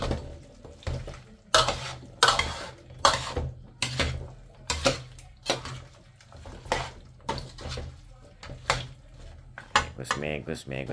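A spoon stirs a lemongrass-flavoured dish in a cooking pot, clanking and scraping against the metal in a steady rhythm of about one stroke a second, close and fairly loud, with brief talk near the end.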